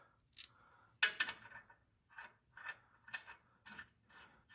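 Small metallic clicks and scrapes as fine-thread metal studs are slid into a steering part during a crossover steering conversion on a Dodge truck, about six or seven separate faint taps spaced irregularly, close up, no talk.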